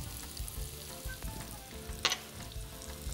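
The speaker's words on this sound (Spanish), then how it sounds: "Lo mantenemos aproximadamente unos 5, entre 5 y 10 segundos para que se fría un poco el pimentón." Paprika frying in extra virgin olive oil in a pan for a rice and vegetable casserole, a steady close sizzle with a brief brighter crackle burst partway through, no voices.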